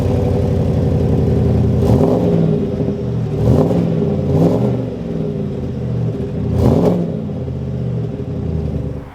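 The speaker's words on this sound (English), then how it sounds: "We have a really cool satin black powder coated dual exhaust system. It has a great sound to it." A 2021 Chevrolet Silverado with a satin black powder-coated dual exhaust, idling with a deep rumble and blipped through three or four sharp revs that rise and fall back, loud and close with no talking.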